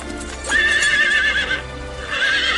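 Horse-drawn royal carriage, ornately decorated and covered in animal hide: a loud, close horse whinny rises and holds for about a second, with clip-clopping hooves underneath and a second neigh near the end.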